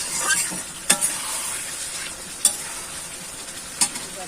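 Koi fish slid one by one into hot oil for a village-style curry, a loud steady hiss of frying with a few sharp clinks and splats as each piece drops in, no talk.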